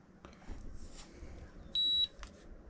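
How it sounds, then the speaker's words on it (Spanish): A single steady electronic beep from a Mercado Pago Point Smart card reader sounds for about a third of a second, clear above faint background rustling. "Ya escuchó un pitido"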